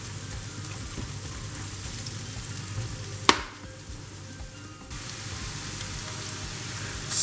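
Vegetables with chili flakes, paprika, salt and lemon frying in a pan while shrimp cook, giving a steady close sizzle with a brief sharp clatter midway and a short quieter stretch before the hiss returns.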